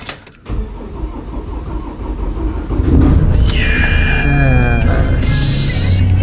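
A van that has sat unused for about a month cranks and catches, its engine settling into a loud, steady idle close by, with a voice speaking over it.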